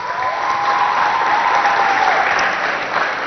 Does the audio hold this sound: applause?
yes